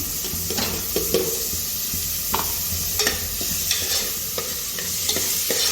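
Tomatoes and avare beans fry in a pan for idli sambar, a continuous sizzle overlaid by repeated scraping strokes of a spatula stirring, close and fairly loud, with no talking.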